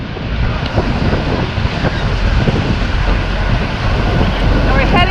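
Loud, steady rushing water and waves at the base of Niagara Falls, heard from a boat, with constant wind buffeting the microphone and dense roaring churn throughout.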